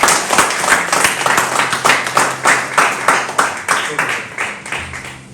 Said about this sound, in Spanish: Vamos a dar un aplauso a Erlinda.